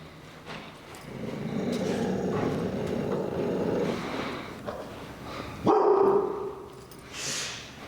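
Fear-aggressive dog during heel training, barking in an outburst of several loud, harsh barks with a sharp burst near the end, close by and without talk.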